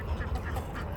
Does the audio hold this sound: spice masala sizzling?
no